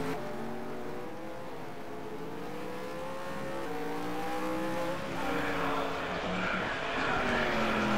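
Race cars sweep through the final corner before the start-finish line on a slippery track, engines droning steadily and shifting pitch as they pass, with rising revs and a touch of tire noise toward the end.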